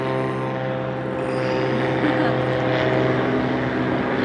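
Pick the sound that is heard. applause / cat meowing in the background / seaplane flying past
seaplane flying past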